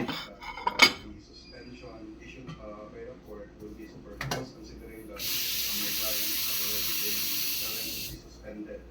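Hand-washing dishes, pots and cutlery at a sink, with a couple of sharp clinks of metal and dishware, then a long steady rush of running tap water; a person talks now and then.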